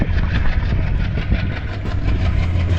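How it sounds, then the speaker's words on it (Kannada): Steady loud rumble of a train engine with rattling carriages, continuous and close, as the train pulls out of Munabao railway station near the India-Pakistan border. "ನಮ್ಮ ಟ್ರೈನು ವಾರ್ನರ್ ರೈಲ್ವೆ ಸ್ಟೇಷನ್ ಬಿಟ್ಟು ಹೋಗ್ತಾ ಇದ್ದೀವಿ"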